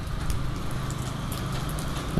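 Steady rain pouring down over a city construction area in Vientiane on an early weekend morning, a dense continuous hiss without pause and no voices.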